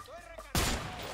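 Gunfire in the video game A Way Out: a sudden loud burst of shots after a short stretch of quieter voices, with the blast noise filling the rest of the moment.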